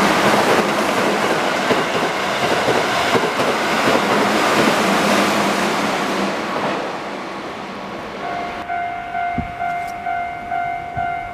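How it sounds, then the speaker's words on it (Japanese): A Keihan 8000 series express train roars loudly past at close range through Kōzenji station, then recedes into rhythmic clacking wheels while a steady warning tone sounds. "まもなく電車が通過しますご注意ください"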